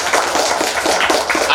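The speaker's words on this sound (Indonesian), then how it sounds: "Boleh dong tepuk tangan, boleh." An audience at a seminar bursts into a short round of applause, a dense crackle of many hands clapping at once, fairly loud and brief.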